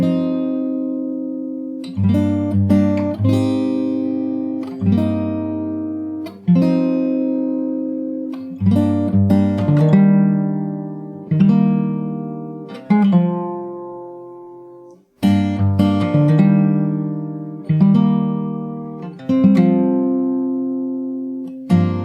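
Fingerstyle acoustic guitar plays the bridge of a song slowly, with strummed and plucked chords struck every couple of seconds and left to ring and fade, close and solo, no voices.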